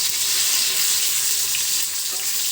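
Rohu fish frying in a pan until crisp and red, a steady loud sizzle and hiss with crackling throughout, close up, with no voices.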